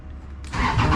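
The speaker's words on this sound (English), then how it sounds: "Okay, go to turn the machine on." A Giant 1200tele telehandler's engine cranks and catches partway through, jumping from a low rumble into a loud steady mid-pitched running roar close by.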